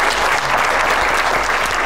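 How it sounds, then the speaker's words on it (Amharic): A studio audience at a comedy quiz game show breaks into dense, steady applause, many hands clapping together at close range with no break. "አጨብጭቡላችሁ።"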